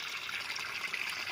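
Water running from a water source on a farm property in Nagcarlan, Laguna, a steady soft trickling wash with no break, fairly quiet throughout.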